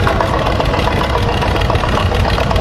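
A 1947 John Deere Model N tractor engine running at an outdoor expo, a loud, steady, close mechanical drone with a dense low rumble and uniform chugging throughout.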